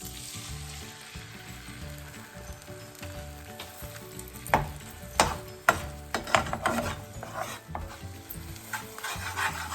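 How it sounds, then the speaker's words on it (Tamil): Egg scrambled in a little oil in a pan for string hopper mix, a soft steady sizzle with sharper scraping and stirring clicks from the utensil growing louder toward the end. "கொஞ்சமாக எண்ணெய் விட்டுருக்குறேன் இதை ஸ்க்ரம்பிள் பண்ணி எடுத்துக்கொள்வோம்"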